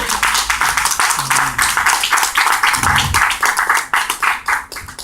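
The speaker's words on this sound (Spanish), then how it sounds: "Démosle un aplauso a las mujeres" A church congregation bursts into uneven, rippling applause during a sermon, many hands clapping loudly and close, rising and falling in waves with a few voices mixed in.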